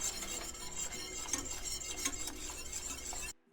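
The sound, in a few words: stirring chocolate and raw milk in a pot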